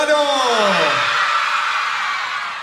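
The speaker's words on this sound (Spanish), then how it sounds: "Ese grito bien fuerte de todas las solteras de Betano." A crowd of women at a cumbia concert lets out a loud, sustained scream that starts high and fades gradually over a couple of seconds.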